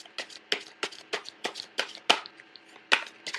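A deck of tarot cards is shuffled by hand at close range, giving a steady run of soft riffling bursts roughly every third of a second, with no voice over it.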